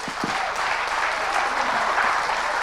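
Audience applause during a master class at THE VILLAGE 2018: a thick, steady wash of many hands clapping at once, sustained evenly for a couple of seconds with a faint voice or two near the start.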